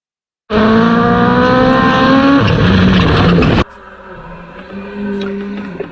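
A World Rally Championship car roars past at a New Zealand event, engine loud and close with rising revs and a brief tyre squeal, then cuts off abruptly to a quieter background of a distant engine.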